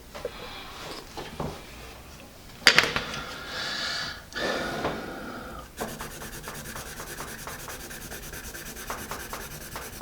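A General's eraser rubs out test-scoring pencil marks on paper with close, scratchy back-and-forth strokes, coming in uneven bursts and then settling into a lighter, rapid rhythm.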